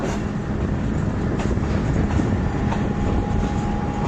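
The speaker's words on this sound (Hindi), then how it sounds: "38 डाउन फरीद एक्सप्रेस पाकपतन की हदूद में पहुंच गई है।" The Fareed Express passenger train rumbles along the rails near Pakpattan in steady, loud, continuous running noise with faint rhythmic clatter, heard from on board.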